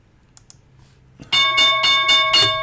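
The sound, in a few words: market opening bell ringing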